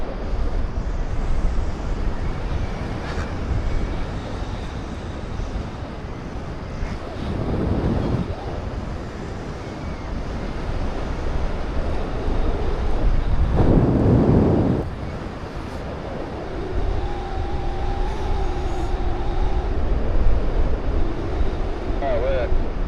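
Breezy wind gusts buffet the microphone at a mountain paragliding launch in Val de Bagnes, Switzerland, a steady rushing roar with louder bursts, while people talk intermittently nearby.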